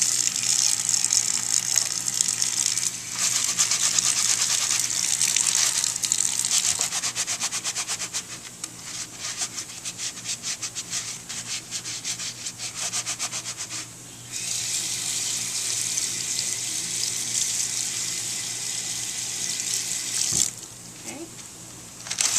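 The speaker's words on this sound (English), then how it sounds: "we're going to wash the utility gloves with soap and water while we're wearing them." Water runs from a tap as gloved hands are scrubbed with soap, the utility gloves still worn during a dental hygiene operatory shutdown, a steady gushing with rubbing and squeaks, briefly quieter in the middle.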